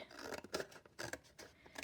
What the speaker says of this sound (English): And then I'm just going to trim off the bottom to about the size that I want it.